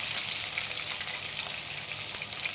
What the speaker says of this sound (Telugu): కట్ చేసుకున్న ఆనియన్స్, తెల్లగడ్డ వేసుకొని దోరగా వేసుకోవాలి.